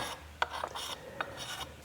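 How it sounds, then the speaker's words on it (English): A blade is worked over a 1000 grit sharpening stone to abrade black gunk from an Okatsune tool, giving a soft continuous rasping rub with a few brighter scraping strokes, close and fairly quiet. "I'm just going to get rid of some of this black gunk that needs to be abraded"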